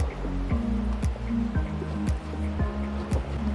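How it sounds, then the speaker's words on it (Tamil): A coconut oil soap bar being scrubbed before it is dissolved in hot water, heard as steady, rhythmic wet squishing strokes roughly every half second, close up and with no talking. "இந்த சோப்பை வந்து நம்ம ஸ்க்ரப் பண்ணிடலாம்"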